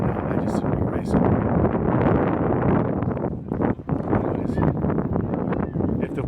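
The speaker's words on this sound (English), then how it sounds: "The wind's blowing." Wind buffets an outdoor microphone with steady, loud low rumble and rushing noise throughout, dipping briefly midway before gusting again.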